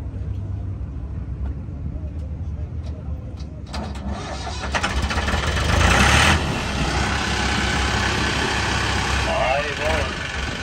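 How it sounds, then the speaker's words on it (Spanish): A tractor engine cranks and catches partway through, then settles into a steady, loud rumbling idle with background voices at a US auction. "les voy a añadir un video donde se arrancó el tractor"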